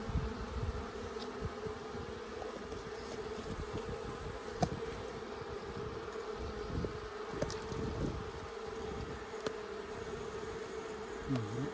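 Bees from a hive in late fall hum steadily throughout, a dense continuous buzz with some wind and faint rustling, close and fairly quiet with no one speaking.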